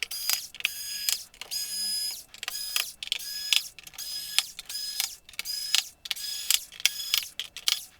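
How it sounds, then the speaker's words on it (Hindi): An electric screwdriver whirs in short repeated bursts as it backs screws out of an Asus Vivobook X540M laptop, about a dozen brief high-pitched runs with small pauses between them. "अभी हमारे पास तो ये मशीन है तो मशीन से जल्दी जल्दी ओपन कर देंगे।"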